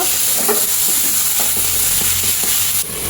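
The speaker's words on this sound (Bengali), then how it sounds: "চালটা দিয়েও ভালো করে ভেজে নিব।" Biryani rice for chickpea pulao sizzles loudly as it fries in a pan, with a continuous hiss and scattered scraping taps of stirring, close up.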